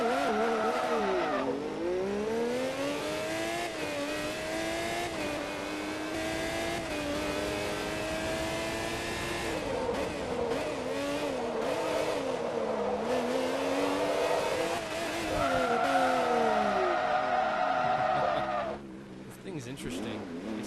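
A race car tears around a racetrack in the Forza video game, its engine climbing and falling through gear changes for a long, loud stretch, with tire squeal and skids, before easing off near the end.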